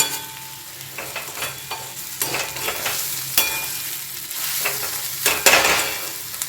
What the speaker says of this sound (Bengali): এই ছাতুটা দিয়ে লাস্টে একটু কষে নিচ্ছি